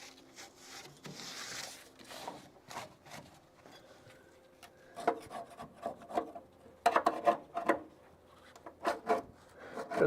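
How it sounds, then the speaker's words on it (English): Small chisel scraping and prying thick seam sealer off a car body flange, giving irregular rasping scrapes and sharp clicks that grow louder and denser toward the end, with no talking. "Good thing is I'm separating the flange with this small chisel"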